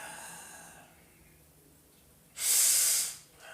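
A single loud nasal breath, a sharp hissing inhale or exhale through the nose lasting about a second, stands out against near silence during a circulation exercise.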